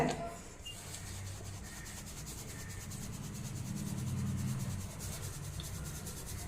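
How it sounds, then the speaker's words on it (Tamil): Freshly ground grain powder being sieved by hand, a steady soft rubbing and shaking rasp that carries on without pause and swells slightly midway, with no voices. "இப்போ அரைச்சி எடுத்துன்னு வந்தாச்சுங்க இப்போ ஜலிச்சு எடுத்துக்கலாம்"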